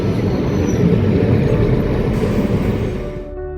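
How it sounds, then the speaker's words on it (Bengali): A train pulling into Bhasila station rumbles close by, loud, steady and heavy, fading near the end as it slows, with a faint high squeal. "এই দেখো ট্রেন ঢুকে গেল"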